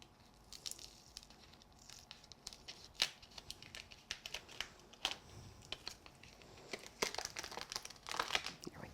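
Die-cut paper is peeled off a new, sticky cutting mat, producing quiet crinkling and tearing crackles in irregular bursts, close and faint, with no talking.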